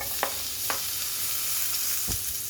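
Onion sizzles and fries in a little oil in a pan with ginger, a steady crackling hiss broken by a few soft stirring knocks.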